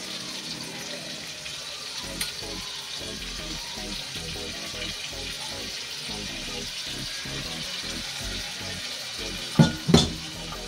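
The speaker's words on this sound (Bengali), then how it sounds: "দইটা দিয়ে দিচ্ছি, এবার দইটা ভালো করে ভাজি" Poppy seed paste fries with whisked yogurt in a pan for rui fish rezala, a steady bubbling sizzle with stirring scrapes and a couple of sharp knocks near the end; a person speaks over it.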